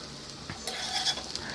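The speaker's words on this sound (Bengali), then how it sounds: "তারপর আমরা এখন রসুন কুচি দিয়ে দিলাম" Chopped garlic and onion sizzle in hot oil while being stirred, a short burst of soft frying hiss with light scraping that grows busier toward the end.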